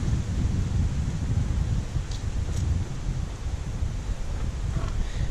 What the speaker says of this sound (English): It's quite a windy day today.